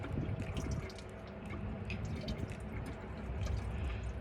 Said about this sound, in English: Gurgle, gurgle, gurgle. All good.